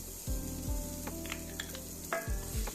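About two tablespoons of chopped garlic fry in hot oil in a pot, a close, steady sizzle with a few stirring clatters and no talking.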